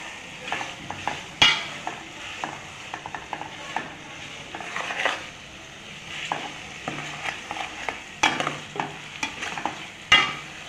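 Crab masala stirred and sautéed in a pan, with repeated scraping strokes and short clanks of the spoon against the metal over a soft sizzle, close and fairly loud, with no voices.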